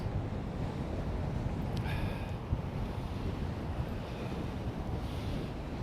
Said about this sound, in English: It is really, really windy out here, by the way, so I hope that the microphone is not picking that up.